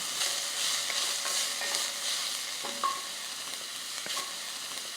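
Onions gently frying in a pan over medium heat, a steady soft sizzle with occasional scrapes and clinks of stirring, close and alone with no talking.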